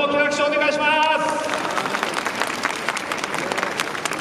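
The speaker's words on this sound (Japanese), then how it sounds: "もう一度大きな拍手をお願いします。" Audience applause for the racers at the 2019 GII Legend Cup final introduction, a brief tonal sound at the start, then a dense rising wash of clapping from a crowd, with a voice over it early on.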